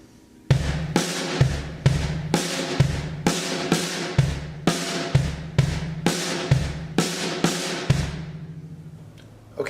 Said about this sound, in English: So if you play it between the bass drum and the snare drum,